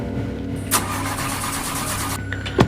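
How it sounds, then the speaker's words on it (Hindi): A car engine cranks repeatedly without catching, a steady whirring grind running for about two seconds, then a short knock. "एक गाड़ी रुक जाती है और स्टार्ट होने की कोशिश करती है,"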